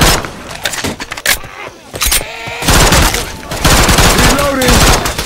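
Rapid bursts of gunfire from the first-person shooter City 17: Aftermath, loud and close, with sharp repeated shots, clattering weapon handling and brief pauses, mixed with game sounds.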